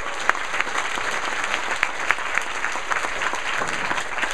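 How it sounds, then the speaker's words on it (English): An audience gives a round of applause at a startup founder showcase with an interview onstage: steady, sustained clapping from a full room, loud and even for several seconds, with no talking. "round of applause"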